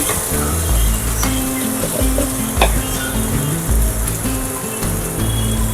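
Onion, tomato and masala paste sautéing in a pan, a loud, steady close-up sizzle with stirring scrapes and occasional spatters throughout, no voices.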